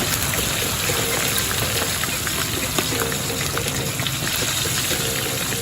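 Meat pieces slid one at a time into hot grease in a pan give a loud, steady, close sizzling hiss that fills the whole stretch without letting up.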